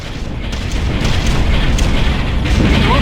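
Deep rolling booms of an artillery bombardment in the strategy game Ground Control, a dense, continuous rumble of overlapping explosions with rising intensity and no speech.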